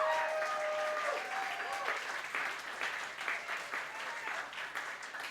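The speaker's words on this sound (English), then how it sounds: "We'll give her a round of applause for Mary Kay." Audience applause fills the room at a community meeting, a steady, moderately distant wash of many hands clapping that tapers gradually over several seconds.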